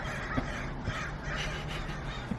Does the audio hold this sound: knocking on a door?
no